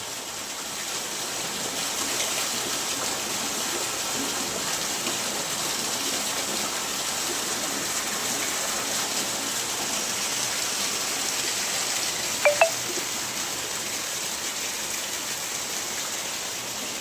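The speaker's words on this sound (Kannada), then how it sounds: "ಇದು ಮಳೆ ಕೊಯ್ಲಿನ ನೀರು." Harvested rainwater flowing at a rain-harvesting setup beside a 28-foot well and borewell, a steady, broad rushing of water that runs throughout with no talking.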